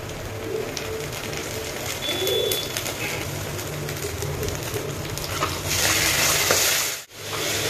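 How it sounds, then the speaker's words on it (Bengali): Ginger-garlic paste frying with browned onions in a pan gives a steady, moderate sizzle with faint stirring scrapes and a brief dip near the end, and no voices. "পেঁয়াজ ভাজা হয়ে গেছে, এখন আদা রসুনের পেস্ট দিয়ে দিচ্ছি"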